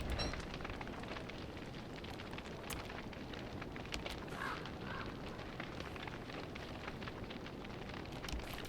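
A fire burning in the Don't Starve video game, a faint continuous crackling hiss with scattered small pops, steady throughout with no voices.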